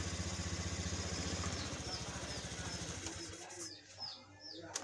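A Honda Scoopy scooter with a fuel-injector fault code runs at a steady, close idle with even throbbing pulses. The engine then cuts out, leaving faint bird chirps outdoors.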